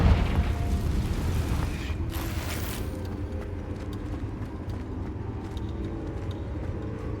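A Confringo fire spell bursts in Hogwarts Legacy, a loud, deep explosive boom opening the moment and then fading into a rumbling, crackling tail that lingers at a lower level.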